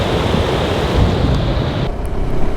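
Glacier meltwater rushes down a valley near Zojila Pass in Ladakh, a loud, steady broadband roar of flowing water that softens slightly toward the end.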